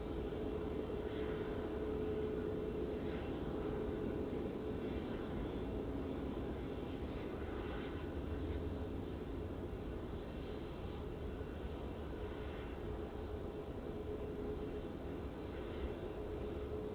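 An airliner racing down a taxiway at Melbourne Airport, producing a steady, continuous engine roar and rumble that holds at a fairly constant level from a distance.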